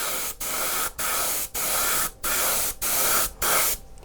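A Badger Extreme airbrush sprays Lifecolor primer paint in six steady bursts of hiss, each lasting about half a second, separated by brief pauses. Close and loud, with no voices.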